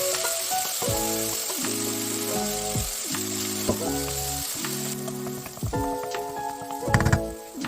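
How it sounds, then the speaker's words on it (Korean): Zucchini sizzles steadily in a hot pan, with light scraping and stirring; a soft melodic tune plays throughout. "애호박도 같이 넣어서 볶아주세요."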